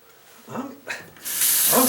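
Water drains from a freshly unclogged sink, rising into a loud, steady gurgling rush toward the end after a couple of brief swooshes.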